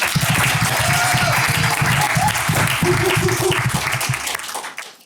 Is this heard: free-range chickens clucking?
no